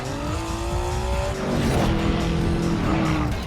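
Car chase from Michael Bay's action film 6 Underground: loud engines revving and accelerating with tires squealing and skidding in sustained, sliding pitch sweeps, dense and continuous throughout.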